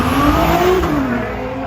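A Riviera Blue Nissan GT-R R35 of about 500 horsepower revs loudly and close at a Motofest car show in Coventry, a steady roar that rises and then eases slightly, with no voices.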